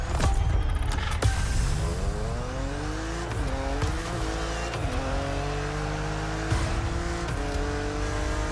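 A BMW Z4 racing in The Crew Motorfest, its engine revving up through rising gear pulls with shifts and brief drops, tire squeal and thumps along the way, loud and close with no talk.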